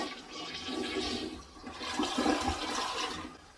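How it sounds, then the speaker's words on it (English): A toilet flushing after being loaded with a good amount of paper, a steady rushing swirl of water that surges, dips briefly, then swells again, close and alone with no talk. "let's go ahead and flush it"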